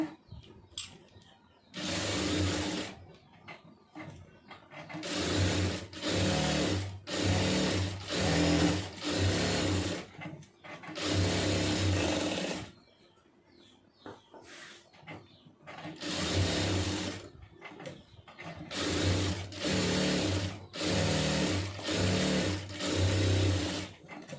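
A sewing machine runs in repeated short bursts of rapid mechanical whirring, stitching small stitches close up, with quiet pauses between runs and no talking.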